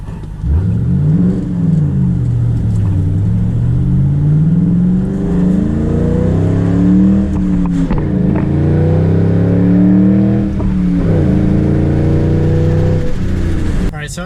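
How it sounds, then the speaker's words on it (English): A car fitted with a Roush Extreme catback exhaust revs repeatedly, the engine pitch rising and falling through several sweeps with a deep, loud exhaust note over about fourteen seconds. "one thing that I really like about my new exhaust is that it's not overbearingly loud."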